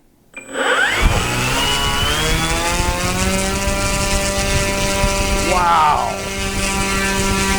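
A small electric propeller motor on an RC P-51 Mustang model plane spins up to a steady high whine with strong harmonics, surges again midway, and holds loud and close; a voice exclaims briefly.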